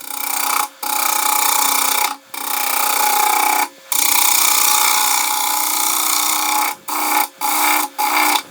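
Bowl gouge cutting the rim of a wooden bowl on a lathe: loud, continuous scraping and rasping of steel on spinning wood, broken by several brief gaps where the tool lifts off, mostly near the end.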